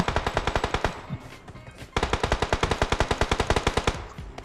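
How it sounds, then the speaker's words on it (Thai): Rapid automatic gunfire in the PUBG Mobile video game comes as two long bursts of sharp, evenly spaced shots, loud and close, split by a short pause. "ดังเลยเสียงปืน"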